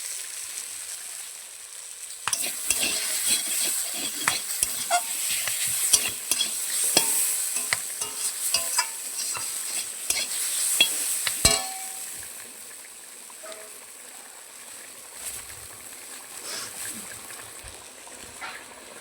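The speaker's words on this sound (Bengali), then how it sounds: "একটু টমেটোটা ভাজা ভাজা হয়।" Tomatoes fry in a pan with a steady sizzle while a utensil scrapes and stirs in quick irregular strokes. The stirring stops partway, leaving a quieter sizzle with a few light clinks.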